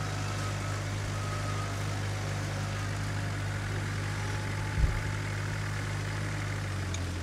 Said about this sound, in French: le Land Rover qui est évidemment en difficulté va évidemment aider en première petite au ralenti le véhicule à treuiller